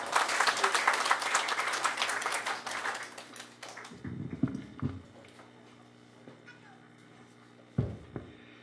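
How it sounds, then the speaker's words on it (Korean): A crowd at a Korean Hangung association event gives dense applause to welcome a speaker. It cuts off after about four seconds, followed by a quieter room with a few low thumps and knocks. "큰 박수로 맞이해 주시기 바랍니다"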